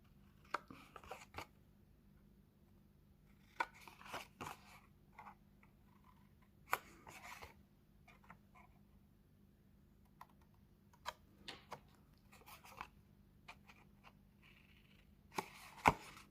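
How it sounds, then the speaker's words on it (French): Paper is cut at a bevel for a scrapbooking pouch, heard as sparse, sharp, faint snips and clicks scattered across a quiet room. "Je coupe en biseau."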